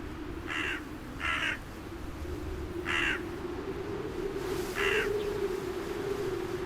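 A crow caws four times, spaced and fairly evenly repeated, over a steady outdoor hum in the abandoned hilltop village of Craco, Italy.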